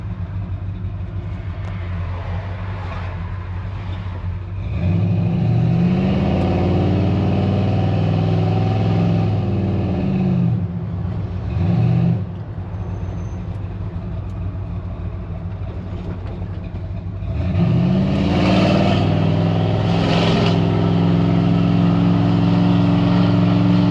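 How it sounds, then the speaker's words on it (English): A 1986 Chevy C10 shortbed pickup with a cammed engine rumbles steadily while driving, its deep exhaust note swelling loudly as it accelerates twice, with no talking. "The exhaust sounds great in it, guys."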